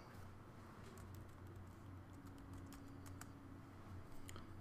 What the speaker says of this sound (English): So let's go up to the top and type in organic gardening.